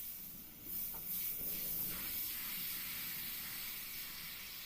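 An airbrush sprays paint in a steady, soft hiss that runs nearly unbroken, close and fairly quiet, with a brief dip near the start before the airflow settles.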